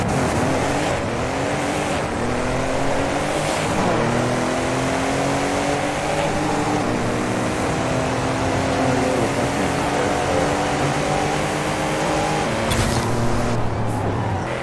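A Ford Raptor pickup truck engine in Forza Horizon 5 revs and roars continuously during a drag race, its pitch climbing and dropping through gear shifts, loud and close, with no talking over it.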